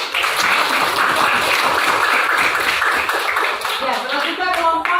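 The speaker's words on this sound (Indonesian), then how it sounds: "Mereka tepuk tangan" Applause from a classroom audience, steady, dense clapping that fills the whole stretch at an even, fairly loud level, with a little voice and stray taps showing through near the end.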